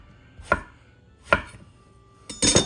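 A knife cuts through stacked vegetable discs on a cutting board for pasta alla Norma, three separate crisp chops spaced out, the last a quick double strike, close and clear in a quiet kitchen.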